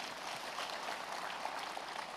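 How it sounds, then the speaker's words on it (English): A festival audience claps steadily at an outdoor youth event, a soft, even patter of many hands heard from some distance throughout. "Give a big clap for Pyramid Valley."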